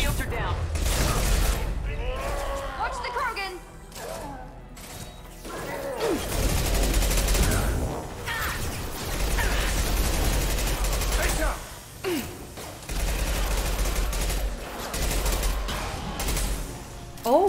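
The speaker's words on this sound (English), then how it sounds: "Oh, that was a lot of bullets." Heavy gunfire in Mass Effect 2 comes in repeated bursts of shots and impacts over a deep rumbling game soundscape, while a voice talks intermittently over the fighting.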